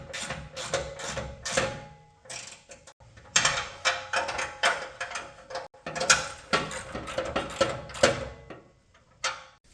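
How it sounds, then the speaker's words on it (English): A ratchet with a 16mm socket tightens the inner L-bracket bolts of a front bumper on a 2019-2023 Ford Ranger. It gives bursts of rapid clicking, close and fairly loud, with short pauses between runs. "I'm going to come back and tighten up the inner L bracket bolts with a 16mm socket."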